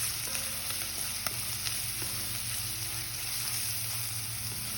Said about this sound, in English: We're going to mix these spices into the onion mixture until the raw smell of the spices dissipates.